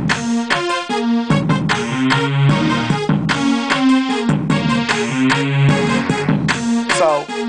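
Drum pattern looping on a Zoom StreetBoxx SB-246 drum machine, crisp repeated kick, snare and hi-hat hits in a steady rhythm alongside a pitched bass line, loud and close with no talking.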